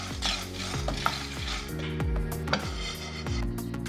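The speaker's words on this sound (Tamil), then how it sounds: "இதுவும் நல்லா கோல்டன் ப்ரௌன் கலர் வர வரைக்கும் வறுத்து எடுத்துக்க போகிறோம்" Chana dal dry-roasting in a pan for idli milagai podi, with steady rhythmic stirring scrapes and a faint ringing pan tone under a low continuous roasting hiss, close and moderately loud.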